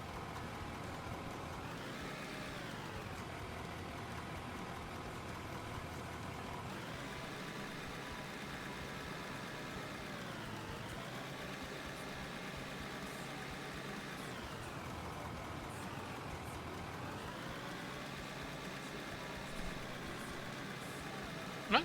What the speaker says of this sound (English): I like hearing the trucks,